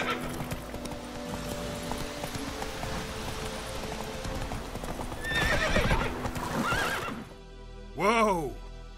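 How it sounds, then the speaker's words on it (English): A horse in The Witcher 3 video game gallops with rapid clip-clop hoofbeats, then gives a loud whinnying neigh near the end, while game voices and effects play around it. "Whoa there, Roach"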